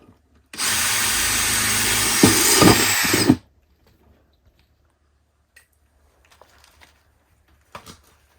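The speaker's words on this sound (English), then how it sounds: "you're going to use the 21mm hole saw on the back of your reservoir" A 21mm hole saw cuts into the back of a plastic watering reservoir for an olla garden system, giving a loud, steady whirring grind for about three seconds that stops abruptly, followed by a few faint clicks and handling noises.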